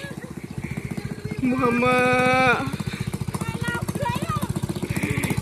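A motorcycle fitted with a racing exhaust, heard close and loud with a rapid pulsing idle that swells into a sustained high rev before settling back, while a voice speaks briefly over it.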